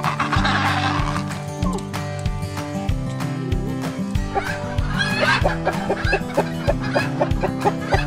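A chicken clucks in short, irregular bursts over a rhythmic background music track with a steady beat.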